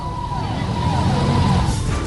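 Delhi Police motorcycles sound their sirens while circling AIIMS. Wailing sweeping siren tones rise and fall over dense traffic and crowd noise, with voices mixed in.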